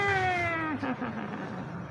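A black cat meows loudly and close by, one drawn-out meow sliding down in pitch, followed by a softer trailing cry.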